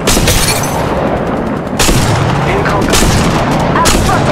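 Rapid gunfire and booming impacts in the mobile battle-royale shooter Apex Legends Mobile, loud and dense, with bursts layered over a constant roar of game sound.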